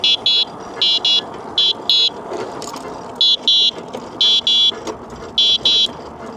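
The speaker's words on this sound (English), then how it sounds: "Honking my horn every time I go across a little intersection." A bicycle horn honks over and over in short, loud pairs of bursts at a steady rhythm, over outdoor rolling noise at intersections.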